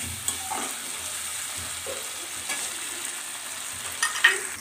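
Tomato puree and spices fry in hot oil for a Bengali methi aloo, a steady soft sizzle with occasional scraping stir strokes, louder spatters near the end.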